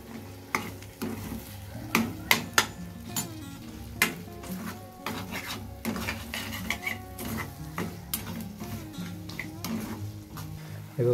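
A spoon stirs ginger and garlic frying in a pan, scraping and clinking in repeated close strokes over a low, steady sizzle, moderately quiet with no talking.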